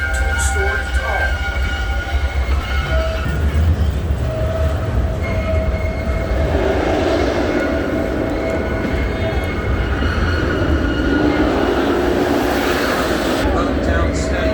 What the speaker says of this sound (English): please stay seated until the train comes to a complete stop